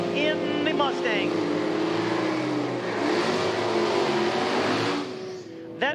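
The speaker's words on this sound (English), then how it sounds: "That Mustang must be a 6-cylinder. Got a certainly different sound from the rest of the cars." A 6-cylinder Mustang drag car at an IHRA Outlaw Nitro Series Pro Am time trial accelerates hard, a loud sustained engine roar rising in pitch over several seconds before cutting off, with brief talk at the start.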